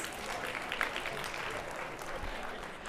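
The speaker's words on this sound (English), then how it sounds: "If you can hear me, give me a clap right now" A conference audience at an afternoon session claps together in a steady, moderately faint wash of applause, with murmured voices mixed in throughout.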